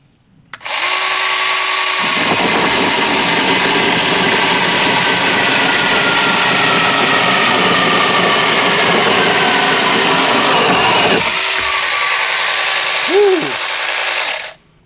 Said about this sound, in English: I can switch on and off the chainsaw